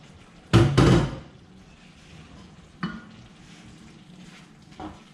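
Black chickpeas and potatoes stirred into curry in a pan: two close, loud bursts of scraping and sizzle near the start, then a quieter steady frying hiss with a couple of brief knocks of the spoon.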